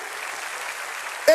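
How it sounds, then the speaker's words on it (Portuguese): A church congregation at a Portuguese-language sermon applauds, giving a steady wash of clapping across a fairly large room. A voice breaks in sharply at the very end. "Uma salva de palmas para vocês que oraram muito."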